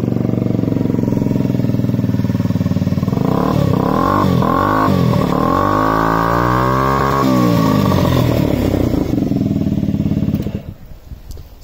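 A 2007 Honda Zoomer 50 scooter with about 24,000 km on it starts and runs close by, its small single-cylinder engine rising and falling through a few throttle blips before cutting off near the end.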